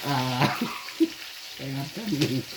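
Ghungi snails frying in a pan with spices, giving a soft steady sizzle heard under a voice and harmonic vocal sounds close by.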